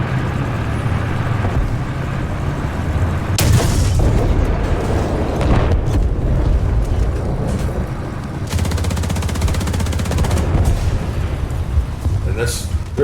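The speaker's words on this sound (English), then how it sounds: "You can see him blasting away at the tank." A tank cannon fires repeatedly at an enemy tank in a war video game, with heavy booms and rumbling blasts under continuous loud game noise, several sharp reports standing out.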